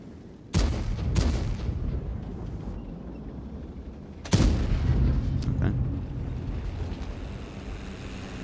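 Two loud tank cannon shots boom in the game World of Tanks, each with a sharp crack and a long rolling decay, several seconds apart over steady ambient rumble.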